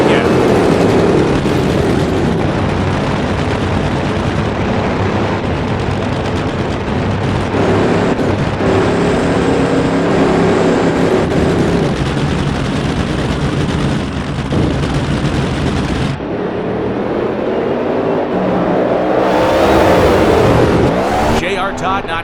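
Roaring engine noise from 11,000 horsepower NHRA drag racing cars in a video game, a loud continuous blast filling the clip with a brief dip partway through, likely under a commentator's voice.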